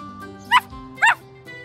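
A cartoon puppy yips twice in short, bright barks with a whimpering edge, over a soft musical background.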